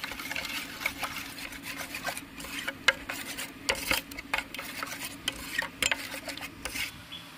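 Spices and salt are mixed in a bowl to make a marinade for rohu fish, giving quiet, irregular scraping, rubbing and tapping strokes close by, with no talking.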